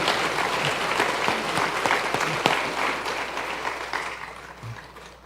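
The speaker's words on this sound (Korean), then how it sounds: "그 어르신들을 위해서 우리 한번 박수로 그분들 격려 한번 하십시오" A church congregation applauding its elders at a Sunday anniversary service, a dense wash of many hands clapping together that holds steady and then fades toward the close.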